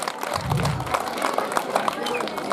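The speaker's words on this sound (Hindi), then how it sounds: "इनके लिए मैं बधाई देती हूँ और इनके लिए जोरदार तालियां" A crowd at a government high school's annual prize distribution function applauds staff members, a steady wash of clapping with scattered voices mixed in, fairly close and sustained.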